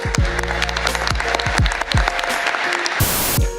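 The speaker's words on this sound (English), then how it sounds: "let's give her another round of applause" An audience applauds a young speaker at the COP28 climate conference, with broad clapping over a run of heavy, regular low thuds, then a brief burst near the end.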